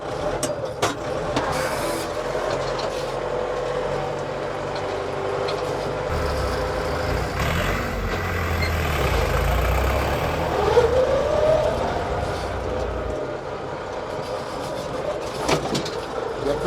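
Low, steady engine rumble inside the cabin of a new Scout TE504C tractor, with rattles and clicks over the drone and a brief rise in loudness midway.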